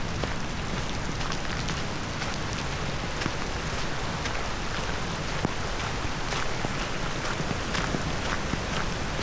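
Steady heavy rain in Japan pattering loudly on a surface, a dense constant hiss with scattered distinct drops, no voices.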